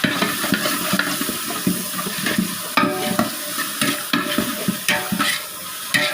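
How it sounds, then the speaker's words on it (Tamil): Onion frying in a little oil, a steady crackling sizzle with repeated scraping stirs against the pan, close and fairly loud, with no voices. "கொஞ்சமாக எண்ணெய் ஊற்றிக்கலாம். வெங்காயம் வந்து போட்டுக்கலாம்."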